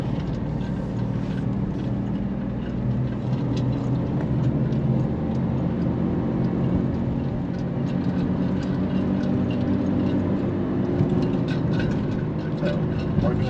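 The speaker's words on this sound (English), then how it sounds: "So we're gonna drive around the track real quick, or what's left of it." A car rolls around the remains of the old Kentucky Speedway track, its engine and road rumble a steady, close drone throughout, with faint talk from inside.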